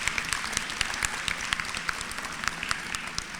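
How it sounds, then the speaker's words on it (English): Gala audience applause at a hall of fame induction, dense crisp clapping throughout with sharp individual claps standing out, fairly close and sustained. "give her a round of applause,"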